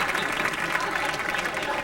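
Steady audience applause at a celebrity roast, dense clapping held at an even level for the whole stretch, with some crowd murmur mixed in.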